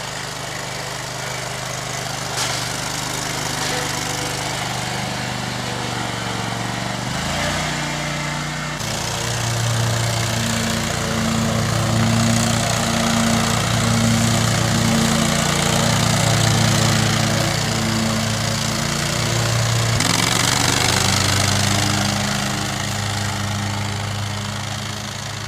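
A lawn mower cuts long grass as a loud, steady engine drone with a deep hum. The pitch shifts and the load grows heavier partway through, then eases near the end.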